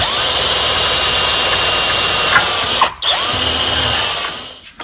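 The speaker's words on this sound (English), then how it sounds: "I back out my drill once in a while just to see if there's any metal on the drill" A loud, steady whine of a power drill boring into a snapped bolt in a John Deere riding mower spindle runs continuously, briefly dipping once as it strains, then tailing off near the end.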